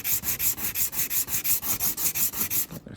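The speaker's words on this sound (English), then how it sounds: "I gave it about 20 swipes on the sandpaper there with a moderate pressure." Rubber stamp rubbed on sandpaper with moderate pressure, a fast even rhythm of about fifteen gritty back-and-forth swipes, close and alone, stopping just before the end.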